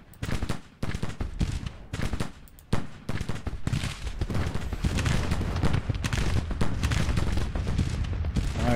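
Dense musket volleys fill a Civil War strategy game battle, opening with a few separate crackling salvos, then settling into continuous rolling fire.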